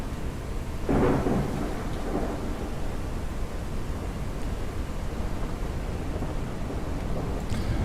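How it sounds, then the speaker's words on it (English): Thunderstorm in a video game: steady heavy rain hiss throughout, with a loud thunder rumble near the start and a softer second roll shortly after, no talking. "This is probably the smartest thing to do in a lightning storm"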